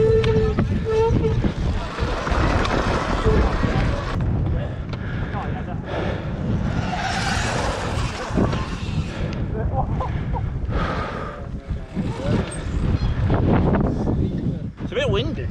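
Strong wind buffets the microphone while riding a SurRon electric dirt bike outdoors, a loud continuous roaring rumble that surges and dips, with a voice speaking over it.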